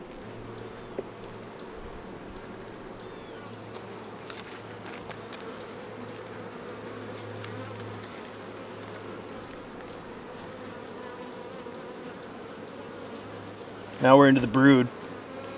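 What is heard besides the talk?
honey bees buzzing on an opened hive frame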